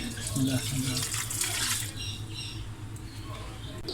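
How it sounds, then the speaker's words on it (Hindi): A glass of water being poured into a spice mixture for desi murgh karahi: a steady splashing, gushing pour that runs for about two seconds and then settles into a lighter trickle, close by with no talking. "तमाम मसाला जार डालने के बाद एंड पे हम 1 गिलास पानी ऐड करेंगे।"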